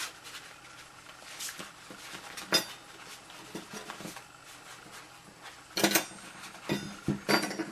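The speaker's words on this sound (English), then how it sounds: "And pop my cutlery in." Metal cutlery clinks and clatters into a holder on a Christmas table beside a linen napkin, a few bright close chinks and rattles in bursts, with no talking.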